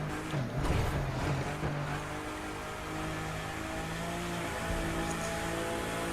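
A car in The Crew 2 race shifts into seventh gear, its engine holding a steady, droning high-speed tone with a brief rev surge at the start, continuous and moderately loud.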